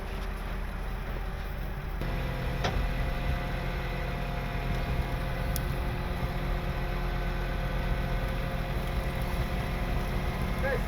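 Vehicle engine held at steady throttle during a winch recovery, a constant low rumble running throughout with a slight rise in level after the first couple of seconds and no voices.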